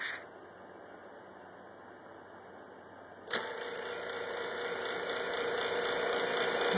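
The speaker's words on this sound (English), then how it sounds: "cut on the vacuum pump now" A vacuum pump starts up partway through, a sharp click followed by a steady, loud broadband whir and hiss that holds for the rest of the clip, set beside glass being melted with a propane torch.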